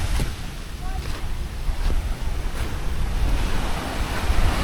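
Sea waves wash onto a black sand beach at Lemery, Batangas, a steady broadband roar of surf with wind buffeting the microphone throughout.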